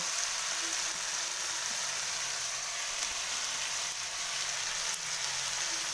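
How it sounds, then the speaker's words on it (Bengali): Cauliflower and mixed vegetables fry in a pan, giving a steady, even hiss of sizzling oil that continues unbroken at moderate loudness. "কপিটা আমার একটু ভাজা হয়ে এসছে এবার আমি এই সবজিগুলো এক এক করে দিয়ে দেবো"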